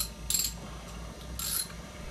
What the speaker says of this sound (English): Okay, 3/4 inch ratchet